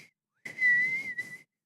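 A person whistles a single sustained, steady tone, loud and close, with a brief break before a second shorter whistled note; no talking.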